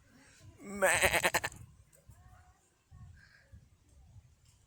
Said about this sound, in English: And the goat is having a wonderful stroll.